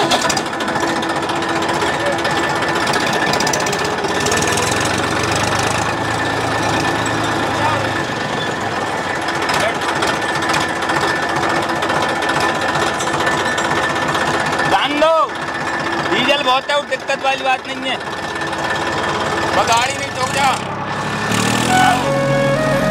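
A tractor engine starts and runs in a rural Bundelkhand farm setting, its steady loud rattling chug filling the whole clip with a brief dip midway, while people talk over it.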